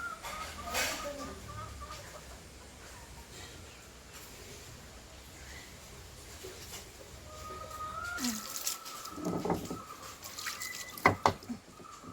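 Chickens cluck now and then nearby amid outdoor ambience, with people talking intermittently.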